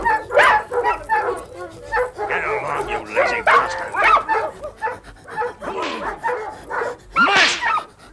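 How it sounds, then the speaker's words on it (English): Sled dogs bark, yip and whimper in a noisy, overlapping chorus throughout, with a voice speaking over them. "Dogs."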